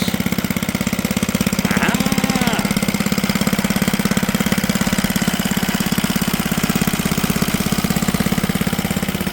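An old Wrigley three-wheeled farm truck engine runs steadily at a fast, rough idle, loud and close, with a metallic rattle from loose handles and a short voice partway through.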